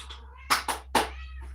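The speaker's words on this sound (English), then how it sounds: "Ooh, yeah, we have a cat." A house cat meows three times in quick succession, close and fairly loud, the calls short and bright against a quiet room with a low steady hum underneath.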